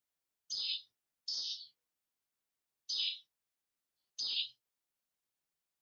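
Birds chirping outside a window in the early morning after sunrise: four short, bright, separate chirps spaced unevenly across several seconds, faint and alone in deep quiet.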